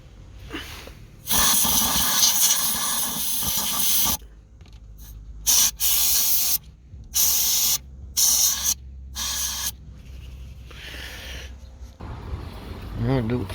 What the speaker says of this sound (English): I've just got a can of spray duster, so can of compressed air.